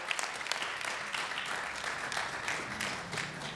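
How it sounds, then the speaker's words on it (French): Press conference audience applauding Vendée Globe sailor Sébastien Simon, brisk, steady clapping throughout with a few louder peaks, fairly close. "Applaudissements effectivement pour Sébastien"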